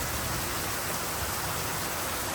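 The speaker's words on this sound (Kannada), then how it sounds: "ಅಷ್ಟು ಜೋರಾಗಿ ಬರ್ತಾ ಇದೆ ಮಳೆ" Heavy rain pours steadily, a dense, continuous hiss close by with no let-up and no voices.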